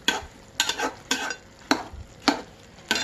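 A spoon stirs yogurt into pudina biryani in a cooking pot, giving six evenly spaced scraping strokes against the metal with a soft sizzle between them, close and without speech.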